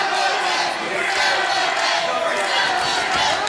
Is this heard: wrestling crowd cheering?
yes